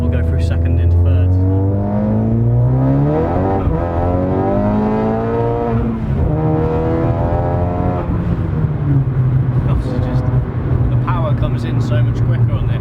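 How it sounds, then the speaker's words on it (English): A tuned 269 bhp turbocharged Suzuki Swift with a smaller turbo accelerates hard through second gear into third on a straight. The engine note climbs loudly and drops at each shift, and a voice talks over it. "we'll give it a squeeze through second gear here on a bit of a straight"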